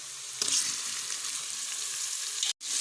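Tomatoes frying in a pan with onion and ginger-garlic paste give a steady close hiss and sizzle, with a brief stir noise near the start and a momentary cut near the end.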